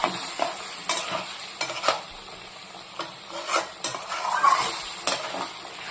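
A spoon stirs aloo dum gravy in a pan, giving repeated soft scrapes and knocks in an irregular rhythm over a faint low sizzle, close but fairly quiet.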